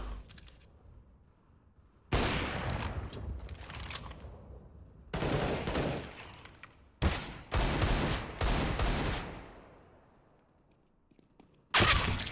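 Gunfire in Counter-Strike: Global Offensive, with loud bursts of rapid automatic shots in several separate volleys, each burst cutting off abruptly, and quiet gaps between them.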